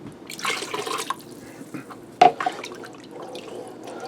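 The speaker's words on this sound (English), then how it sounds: "We'll make that 3 cups of water." Water trickles and splashes into a pot for beef stew, with a brief louder pour midway, then a softer steady flow.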